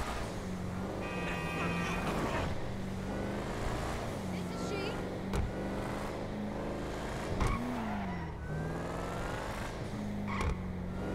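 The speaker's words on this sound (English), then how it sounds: "as soon as I start accelerating, you guys will actually hear the supercharger sound" A Bravado Buffalo STX with a supercharger accelerating in GTA Online, a steady engine drone with a rising whine that climbs and drops through gear changes, with someone talking over it throughout.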